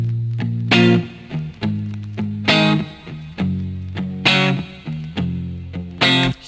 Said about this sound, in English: I added some vinyl crackling noise in the background because I really wanted that vibe in this beat, and some wobble, distortion, and some reverb